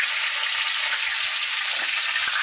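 Fish heads rubbed with salt and turmeric fry in hot oil, giving a steady, loud, close sizzle that holds evenly from start to finish, with a few faint pops near the end.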